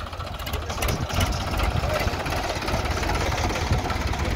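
A Sonalika DI 35 or New Holland 3032 tractor engine idles with a rough, knocking chug that runs steady and loud while people talk nearby.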